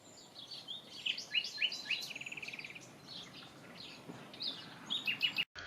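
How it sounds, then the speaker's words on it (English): A male nightingale sings a varied song of bright chirps, whistles and a rapid trilling phrase, moderately near over a soft background hiss. "This song of love, sung by the male nightingale to attract a female"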